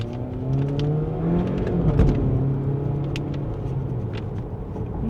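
GAC Emzoom car pulling away from a standing start, its engine note rising steadily as it accelerates, close and loud with a continuous rumbling whir throughout.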